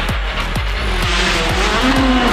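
Peugeot 208 T16 rally car with a turbo engine, revving hard and climbing through the gears in quick successive upshifts, loud and close from onboard.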